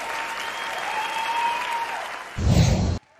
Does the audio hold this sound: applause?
yes